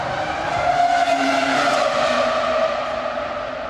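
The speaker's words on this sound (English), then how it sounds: "it's the greatest sound of a racing car ever" Formula 1 racing car engine with tyre skid during Abu Dhabi qualifying, a loud sustained high whine and rising tonal squeal heard close and continuous for several seconds, nobody speaking.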